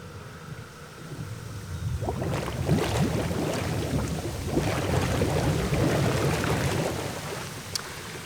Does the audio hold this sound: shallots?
no